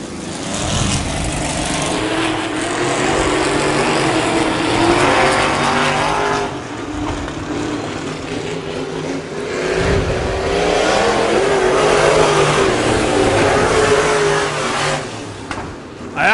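Dirt track race cars roar around the oval at Double X Speedway. A loud, continuous engine din swells and fades as the pack passes, with no voices.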